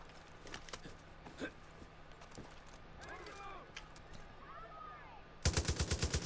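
Turret gunfire in Far Cry 5 arcade mode, a rapid burst of close, loud shots near the end after quieter scattered background battle noise and faint distant pops.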